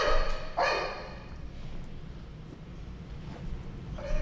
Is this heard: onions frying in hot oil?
no